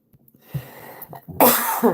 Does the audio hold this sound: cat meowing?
no